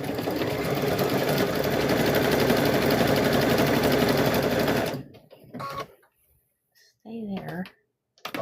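A sewing machine stitches variegated thread while making a quilt square, running as a steady, loud, close whir for about five seconds and then stopping, followed by quiet and brief handling noises.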